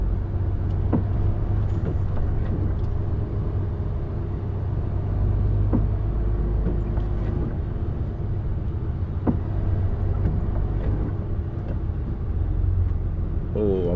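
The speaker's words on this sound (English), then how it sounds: "This is a skip truck, and I don't know if I can get past it." A skip truck on a road between Speke and Widnes produces a close, continuous diesel engine rumble with a deep, steady drone and occasional light clanks.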